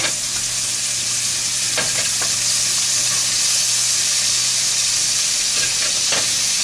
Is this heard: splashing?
no